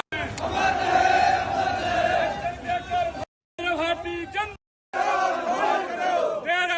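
A large protest crowd at a Bharat Bandh rally loudly shouts slogans in unison, a roaring chant broken by abrupt silent cuts before the chanting resumes.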